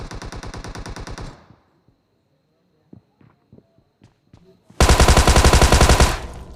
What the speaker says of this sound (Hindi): यहाँ मैं गन रिलोड करता हूँ और उसको मारने की कोशिश करता हूँ